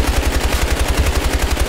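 Rapid automatic AK-47U fire in Battlefield Hardline, a steady loud burst of closely spaced shots running the whole time with no pauses and no talking.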